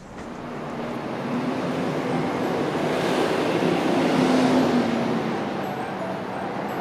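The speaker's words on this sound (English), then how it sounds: "Bendy bus." A bendy bus rolls past on a cold morning street in Bath, its engine and road noise swelling to a loud peak midway and then fading as it moves away.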